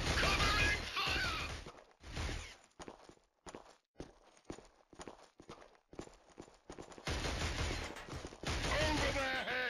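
Gunfire crackles in the Killzone HD game as scattered sharp shots and short bursts rattle out between louder stretches of combat noise, with voices shouting in the fight.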